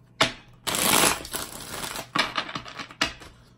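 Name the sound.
shuffling cards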